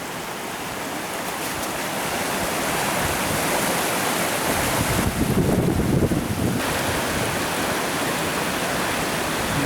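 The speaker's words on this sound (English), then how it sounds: "I think I hear the waterfall." A waterfall and fast-flowing river beside a brook in the snowy Presidential Range roar as a steady, dense broadband rush, mixed with gusting wind buffeting the microphone, continuous and fairly loud with no talking.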